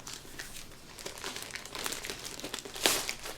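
Plastic mailer bag being cut open and handled, giving a steady close, fairly quiet crinkling rustle for a few seconds with a sharper crackle near the end.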